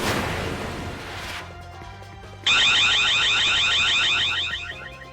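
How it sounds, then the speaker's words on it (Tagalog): A CCTV alarm system goes off in a warehouse in Punta Santa Ana, Manila: a loud, pulsing electronic wail starts abruptly partway through and keeps sounding steadily, after a stretch of broad noise and quiet. "Biglang tumunog ang alarm system ng CCTV camera sa isang bodega sa Punta Santa Ana, Maynila madaling araw noong May 17."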